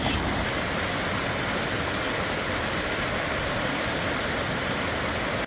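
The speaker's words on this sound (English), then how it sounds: "topped off with another rushing waterfall." Rushing waterfall on Miners Run in the McIntyre Wild Area, a small cascade leaping off a ledge, heard as a loud, dense, unbroken roar of falling water from start to finish with no voices.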